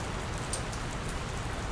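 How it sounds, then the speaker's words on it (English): Steady rain falls in the video game Dr. Langeskov, The Tiger, and The Terribly Cursed Emerald: a dense, even hiss of drops with no voices over it. "I don't think it's supposed to still be raining"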